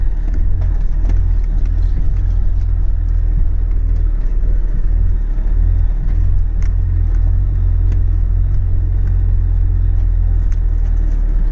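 An agricultural tractor with a sprayer drives a lap around the edge of a field: a constant, loud, low engine drone and rumble, steady throughout with faint rattles and no talk.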